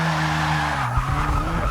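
Tires skid and squeal as a 2014 BMW M4 Coupe drifts in the Forza Motorsport 6 racing game, with a steady engine drone underneath and a sharp squeal running throughout.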